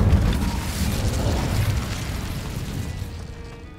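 Incendio fire spell cast in Hogwarts Legacy, a loud whooshing burst of flame with a low boom that roars steadily, then slowly fades over a few seconds.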